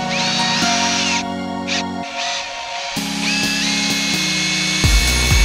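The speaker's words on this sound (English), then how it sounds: "we're going to drill that to size." A power drill whines at high speed in several bursts, stopping and restarting, its pitch shifting as a 5/16 bit drills a bolt hole to size.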